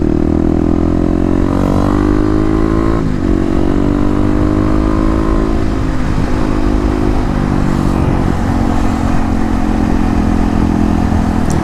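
A Kawasaki KLX250 fitted with an FMF Megabomb header and Q4 slip-on exhaust accelerates hard onto a highway. The loud, close single-cylinder drone rises in pitch through each gear, with clear shift breaks, and no voices are heard.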